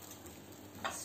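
Ghee poured over a piece of hot coal, set among paneer angara for smoking, hisses in a soft, quiet sizzle, with a brief brighter crackle near the end.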